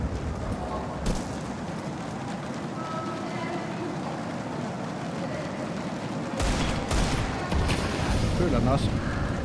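Counter-Strike M4 rifle bursts crack through an esports match broadcast at IEM Rio 2024, dense fire layered beneath steady commentary, rising louder near the end.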